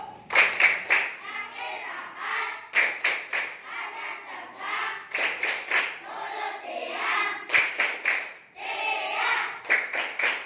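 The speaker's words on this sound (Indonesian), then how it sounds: "Kalau sudah siap, tepuk siap." Schoolchildren in an Indonesian classroom clap a short rhythmic cue pattern in unison, several sharp bursts of group clapping separated by brief pauses, with a teacher's voice talking between them.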